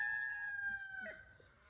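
A rooster crows close by, one long sustained call that breaks off near the end, over faint background rustle.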